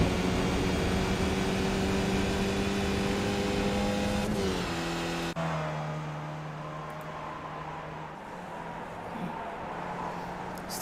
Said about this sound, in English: you'll hear him just kick down a gear and get back on the throttle and head out to the front straight